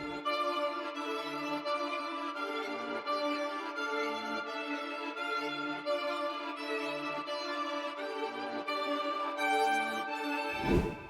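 A reversed, chopped-up violin sample with adjusted fades for a dark trap beat, sustained harmonic tones pulsing in short choppy segments throughout, closing with a brief swelling burst at the end; no voices.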